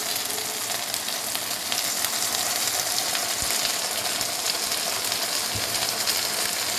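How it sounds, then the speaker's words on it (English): Steady, close sizzling and crackling of vegetable Manchurian gravy frying in a hot pan, with occasional stirring clicks, continuous throughout. "You can hear of the sizzling sound of the gravy."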